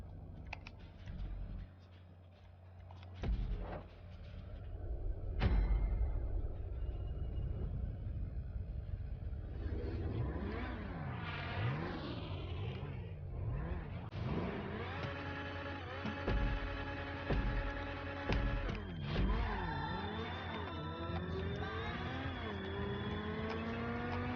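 A car engine revs and drives in Grand Theft Auto 5 during a race, with rising and falling pitch sweeps as it accelerates and shifts, loud and continuous for most of the stretch after a quieter, clicky start.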